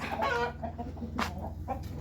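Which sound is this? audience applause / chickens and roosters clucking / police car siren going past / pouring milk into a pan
chickens and roosters clucking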